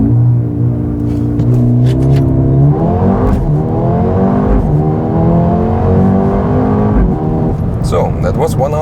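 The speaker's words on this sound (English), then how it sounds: "This might be a good straight to test the launch control" A Mercedes-AMG A35 engine revs hard and surges through rising gears in a forceful launch-control start in Sport Plus mode, loud and continuous, with a brief voice heard over the roar.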